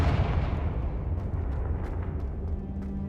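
Confringo blast spell from Hogwarts Legacy, a dense, rumbling explosive roar that holds steady for a few seconds with scattered crackles on top, heard alone.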